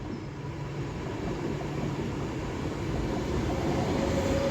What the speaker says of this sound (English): I did see a 390 coming through though. I can hear it.